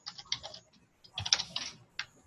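Quick bursts of typing on a computer keyboard while filling in a form, soft close clicks in two clusters with a brief pause between, then a final isolated keystroke, no talking.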